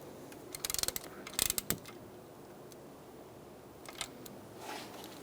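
A ratchet clicks through two short bursts as it tightens the valve cover bolts on a 2002-2006 Toyota Camry, followed by faint clinks and handling noise from the tool.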